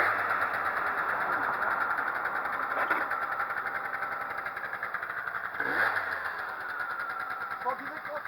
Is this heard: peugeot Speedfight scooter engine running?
yes